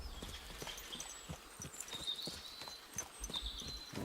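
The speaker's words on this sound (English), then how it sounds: "we'll get up on the horse then" Horse hooves clip-clop in a steady walking rhythm in Kingdom Come Deliverance 2, with light ambient game sounds behind them and no talk.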